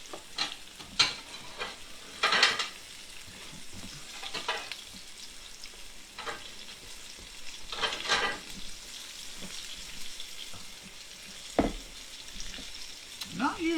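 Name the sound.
fish frying for fish and chips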